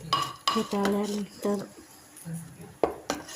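Homemade butter mixed with curd is beaten in a metal vessel, giving intermittent clinks and scraping knocks of utensil on metal, with a person speaking throughout.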